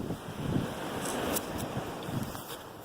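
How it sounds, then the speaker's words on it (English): Strong wind buffets outdoors along a trail, a constant roaring rush with gusty swells hitting the microphone, no speech. "Oh, this wind."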